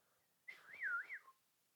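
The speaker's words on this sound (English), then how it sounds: "Why are you whistling?" Someone whistles one short, faint, wavering tune that slides up and down for under a second in an otherwise quiet room.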